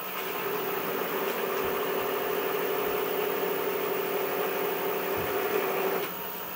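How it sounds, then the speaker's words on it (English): A wood lathe spins a piece being turned into a decorative elf, the tool cutting into the wood with a steady, sustained whirring drone and a constant tone throughout, loud and close, ending abruptly near the end. "Okay, reduce the lathe speed, off we go."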